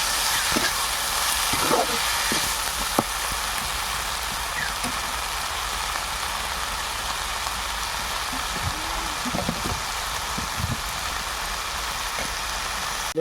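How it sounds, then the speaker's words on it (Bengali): Steady, close sizzling and crackle of a village-style koi fish curry with spinach and potato frying as chilli powder is stirred in, with scattered scraping and clinks of the stirring spoon throughout. "পরিমাণ মতো লঙ্কা গুঁড়ো দেওয়া হচ্ছে, দিয়ে নেড়ে দেওয়া হচ্ছে।"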